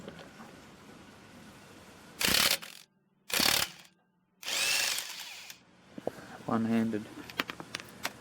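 Pneumatic impact-style ratchet tool spinning lug nuts off the wheels of a jacked-up car, three loud whirring bursts close by, followed by clanking and handling noises of the wheel.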